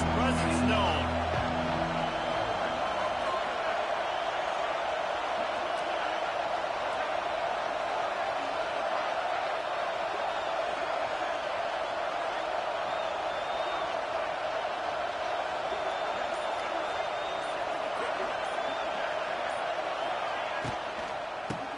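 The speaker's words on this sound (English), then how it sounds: "This crowd ready to make its presence known." A steady, dense stadium crowd roar from an NCAA 26 college football video game holds at an even level throughout, a continuous wash of massed voices with no distinct peaks.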